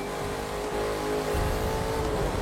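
A Ford Mustang in a racing video game drifting along, its engine a steady loud drone with revving and tire noise, no talking over it.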